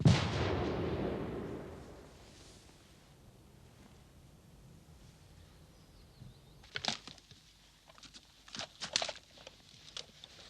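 Military explosives used by British Army armoured engineers detonate in a series of sharp, broadband cracks, with a heavy boom fading at the start, then quiet, then several loud bursts spaced irregularly toward the end.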